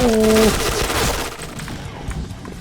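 A short burst of gunfire in the online shooter game Point Blank opens the moment, loud and close, then fades into muffled game noise while a voice speaks.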